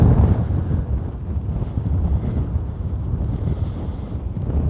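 Wind blows across a hill near an active volcano, buffeting the microphone with a loud, continuous low roar that rises and falls slightly without pause.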